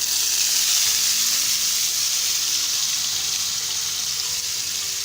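Cubed potatoes fry in hot cooking oil in a pan with a loud, unbroken hiss and a low bubbling underneath that stays even throughout.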